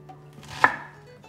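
A single sharp chop of a kitchen knife cutting food on a board lands close by and stands clear over a quiet background hum.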